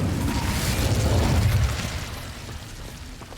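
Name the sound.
Incendio fire spell blast in the video game Hogwarts Legacy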